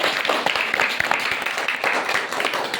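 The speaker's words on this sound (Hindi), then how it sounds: "ताली बजाओ बाबा साहब अम्बेडकर" An audience claps for Babasaheb Ambedkar at a gathering, a dense, steady wash of many hands beating together that fills the whole stretch without letting up.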